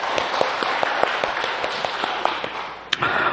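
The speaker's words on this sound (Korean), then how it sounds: "영광의 박수로 주님께 돌리십시다" A church congregation applauding during a Sunday service, rhythmic unison clapping from a large crowd filling the room, ending with a sharp final clap.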